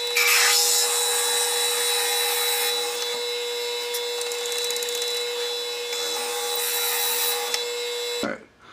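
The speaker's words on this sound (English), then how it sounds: "So now we'll get that drilled." Cocobolo fountain pen body blank being drilled to 25/64 inch on a wood lathe, a steady high-pitched whirring and grinding of bit in dense wood running continuously, close and loud, then stopping abruptly near the end.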